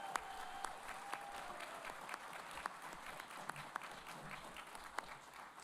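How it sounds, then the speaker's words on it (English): Faint audience applause fills a graduation ceremony hall for the staff, steady scattered clapping with a few sharper individual claps standing out, heard from a distance. "So please, let's give the staff a big round of applause."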